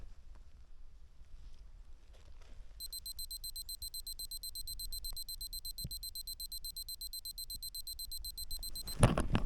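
A rapid high-pitched electronic beeping from a dog's invisible fence collar starts after a few quiet seconds and repeats steadily, faint and thin, until a brief rustling thump at the end.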